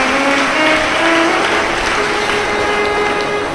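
A large crowd at a Shiv Mahapuran katha claps loudly and steadily, with dense, sustained applause filling the whole stretch and a faint tonal hum underneath.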